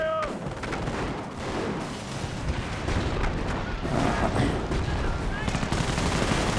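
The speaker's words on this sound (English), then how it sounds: "Under heavy fire!" Heavy gunfire and machine guns rattle in Company of Heroes, a dense, continuous battle din of overlapping bursts, booms and distant explosions, loud throughout.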